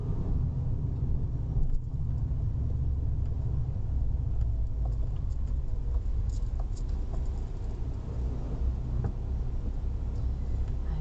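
Learner driver's car rolling slowly around a roundabout, with a steady low road rumble and engine drone heard from inside the cabin, continuous and unbroken throughout.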